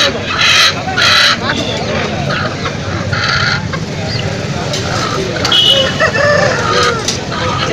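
Chickens cluck and squawk at the Melapalayam poultry market in Tirunelveli, with people haggling over prices amid a steady hubbub of birds and market noise.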